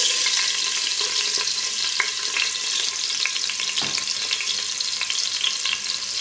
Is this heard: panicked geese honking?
no